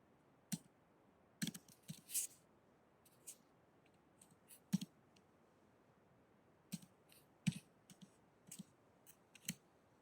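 Sparse, isolated clicks and keystrokes on a computer during a spreadsheet lesson, faint and close in an otherwise quiet room, coming in small clusters with long gaps between them.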